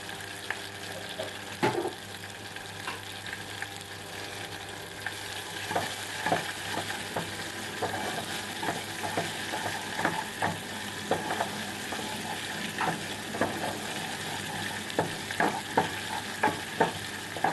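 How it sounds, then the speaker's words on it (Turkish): Meat filling for stuffed peppers being sautéed in a pan, a continuous gentle sizzle with frequent clicks and scrapes of a utensil stirring, with no talking. "Biraz daha kavuralım."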